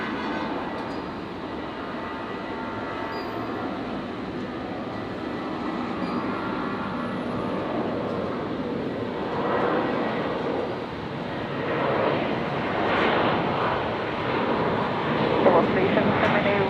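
A jet airliner takes off from runway 01 left at Brisbane Airport, a broad, steady engine roar swelling gradually from the distance and growing louder, with radio voices talking over it.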